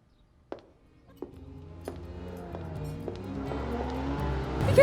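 A car approaches and grows steadily louder, its engine rising toward a close pass at the end, with a few sharp knocks along the way and no talk.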